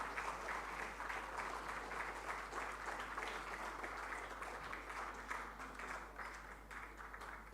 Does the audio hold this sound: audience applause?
yes